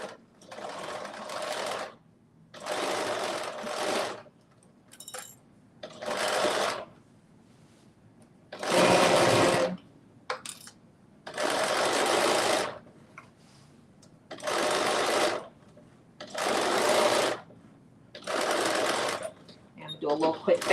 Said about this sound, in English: what I am doing now is I am basically sewing my side seams